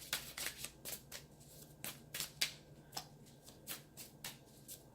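Tarot cards are shuffled by hand at close range, giving a quick series of crisp riffling snaps and soft slides in an uneven rhythm, with no talking.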